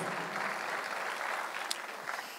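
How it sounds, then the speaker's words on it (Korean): Steady applause fills a church as a congregation claps together to give glory to God, an even, sustained wash of clapping with no voices rising above it. "박수를 치며 하나님께 영광을"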